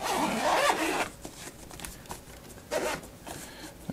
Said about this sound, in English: It's got a nice zipper.